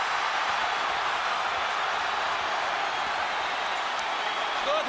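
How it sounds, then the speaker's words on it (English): A boxing crowd at the Cotto vs Clottey fight roaring and cheering as Cotto traps Clottey in the corner, a broad, sustained wash of noise. "Crowd comes alive."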